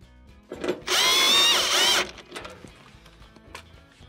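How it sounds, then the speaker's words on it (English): A power drill drives screws into the back panel of a Whirlpool oven during a temperature sensor replacement, a loud whirring burst of about a second amid quieter clicks and handling of parts. "take your two screws, install them and snug them up"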